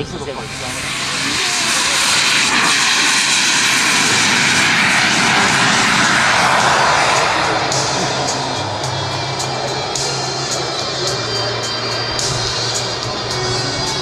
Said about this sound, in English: It is meant to be a ground attack and ground support airplane